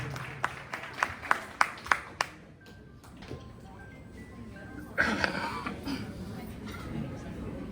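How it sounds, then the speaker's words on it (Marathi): At a Maharashtra Day powada performance, an audience claps in a short run of sharp rhythmic claps, then breaks into a louder wash of applause after a quieter pause. "जोरदार जोरदार जोरदार टाळ्या लावून द्या"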